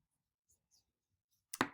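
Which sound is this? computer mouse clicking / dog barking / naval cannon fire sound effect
computer mouse clicking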